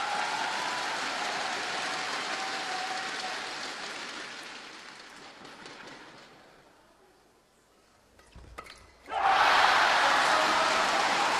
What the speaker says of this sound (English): A loud roar from the crowd.